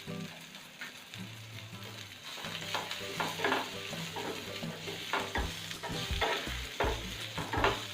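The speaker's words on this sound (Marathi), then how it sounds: "ह्या भाज्या आपल्याला फुल गॅसवरतीच परतायच्या आहे" Vegetables stir-fried over full gas with Kashmiri red chili for a spicy soya chilli, giving a steady sizzle with repeated scraping stirs of the spatula, close and moderately quiet, no voices.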